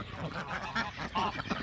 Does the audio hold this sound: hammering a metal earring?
no